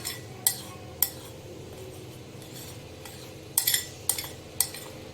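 A spoon stirs sohan halwa ingredients in a metal pan, giving sharp scattered clinks and scrapes, a few isolated taps and then a quick cluster near the end, over a faint steady background hiss.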